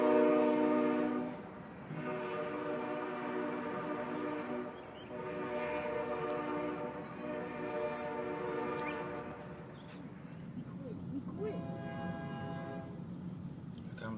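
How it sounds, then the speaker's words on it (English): A CSX freight train rolling close by, its horn blasting in long sustained chords that cut out and return several times over the rumble of the passing cars. "Here comes a train."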